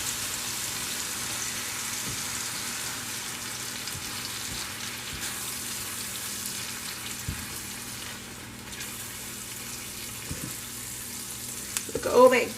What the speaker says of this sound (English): I have the pan set on just under high right now, so the meat will cook pretty quick